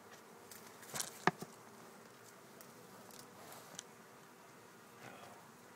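Faint buzzing of bees close by during a bee removal, with a few soft taps and rustles in an otherwise quiet setting.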